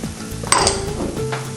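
Tri-color bell peppers and jalapeño chilies landing in a hot olive-oil skillet, bursting into a loud broad sizzle with metallic clinks of a spoon against the pan, close and continuous.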